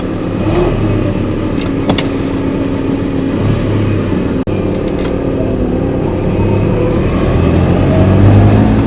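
A 1977 Ferrari 308 GTB, just out of long storage, drives at a gentle pace, its engine droning steadily and loudly from inside the car with rising revs near the end.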